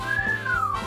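A single whistle in the Cupid Parasite video game, a clear rising-then-falling tone held for under a second, close and loud over a soft low background.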